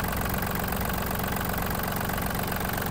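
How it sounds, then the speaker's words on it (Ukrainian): A Yanmar F-210 Japanese mini tractor's diesel engine runs steadily, a loud, even chugging idle with a constant low rumble and dense mechanical clatter, close up and without pauses. "Гарна, чиста робота двигуна."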